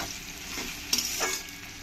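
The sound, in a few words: onions frying in oil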